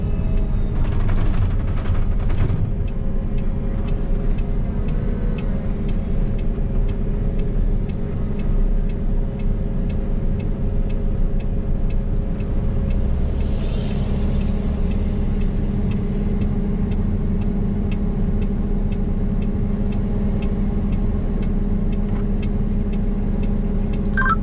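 A slow Fendt IDEAL 9T combine with a 50ft MacDon FD250 flex draper travels on a road. A steady engine drone and rumble continues throughout, and traffic can be heard moving nearby.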